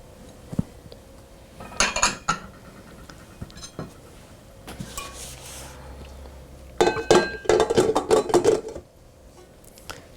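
Buttercream icing ingredients, including clear vanilla extract and bright white food coloring, being mixed in a bowl, with bursts of clinking and scraping that grow louder and denser toward the end.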